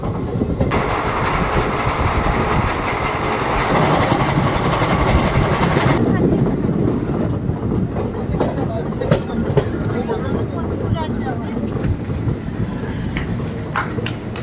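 The Sri Jagannath Express on the Shalimar to Puri run rolls into Jaleswar, giving a steady loud rumble with clattering wheels and rattling carriages, while someone talks over the noise.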